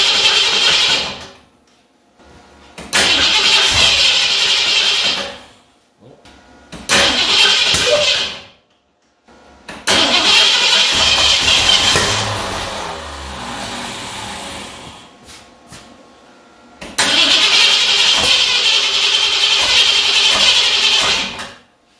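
A car engine cranks in repeated bursts separated by pauses, each attempt rising into loud, rough churning; the engine is being started after a timing adjustment, following the plug wire and firing order checks, heard up close with no talking.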